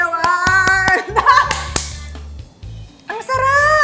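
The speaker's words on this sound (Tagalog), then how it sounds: "palakpak natin yung mga sarili natin dalawa." Two people clap for themselves at a Korean budae jjigae meal, a few sharp, close handclaps scattered among lively talk and laughter.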